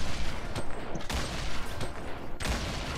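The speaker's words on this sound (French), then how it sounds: "Attends, il y a d'autres gars qui me tirent dessus." Rapid gunfire in Fortnite Battle Royale, sharp bursts of shots landing in quick succession with brief gaps, loud and close, with no talk over it.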